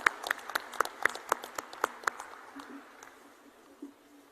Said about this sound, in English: So I think a round of applause would be appropriate at this time.